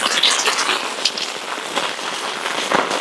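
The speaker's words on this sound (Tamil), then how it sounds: "இது அவ்வளோ மழை பெய்து கொண்டிருக்குது" A dense, steady hiss of heavy rain pours down, with scattered patters and splashes close by.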